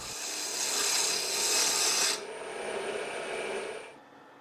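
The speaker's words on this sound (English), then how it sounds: "At the end, I make a pull cut to even up all the ridges left by the previous" A lathe tool drags across spinning wood in a pull cut to even out ridges on a gavel or block, a steady close rasping hiss that eases to a softer scrape partway through before stopping.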